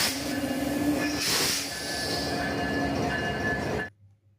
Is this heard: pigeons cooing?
no